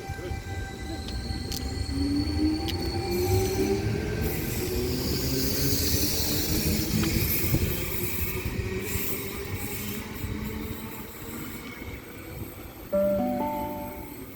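A passenger train pulls away from Penshurst station, its wheels and motors droning with rising and falling tones and squeals, loud and near, before a chime and announcement-like tones sound near the end.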